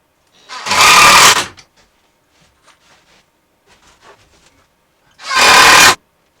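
Kreg screws driven up through holes into the metal dashboard of a school bus conversion, heard as two short, loud bursts of power-driver whirring separated by quiet handling noises.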